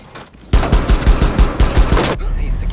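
Rapid automatic gunfire in the video game Rainbow Six Siege, a loud close burst of about a dozen evenly spaced shots lasting under two seconds.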